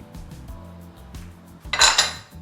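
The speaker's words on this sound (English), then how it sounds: "we're gonna get that whisked in" An egg being whisked into banana brownie batter in a bowl, heard as a steady run of soft rhythmic clinks and scrapes of the whisk against the bowl, rising to a louder burst of clatter near the end, with no talking.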